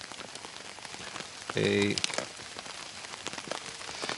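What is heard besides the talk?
rain falling on a tarp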